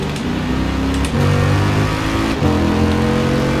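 Brabus-tuned Mercedes-AMG E63 S heard from the cabin in Forza Horizon 4, its engine droning loudly and steadily with two sharp upshifts that drop the pitch before it climbs again.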